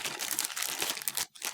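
Thin plastic bag crinkling steadily while a portable charger is unboxed, a close, dense rustle that keeps going with a brief pause near the end.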